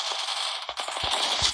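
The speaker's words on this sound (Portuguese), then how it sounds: "E acertar tiro de sniper." Sniper rifle fire in a video game comes through as a quick run of sharp, clipped cracks and thumps over a hissy background, with no voice over it.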